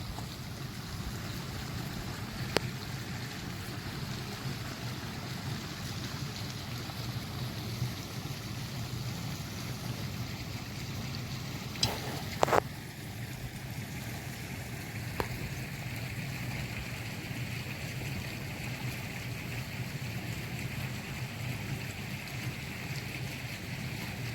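Irrigation water flows steadily through a vegetable field of cabbage, coriander and fenugreek, making a soft continuous rushing wash with a few faint clicks and knocks over it.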